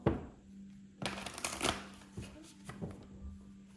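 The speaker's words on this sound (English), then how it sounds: "One more shuffle." Tarot cards are shuffled close by in a few quick riffling bursts with short pauses between, quiet and crisp.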